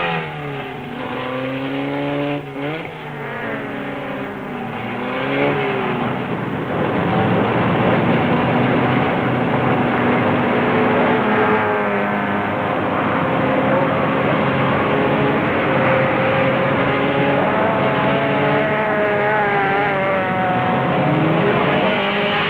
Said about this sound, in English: That's a full valve Lotus Climax. It's some motor.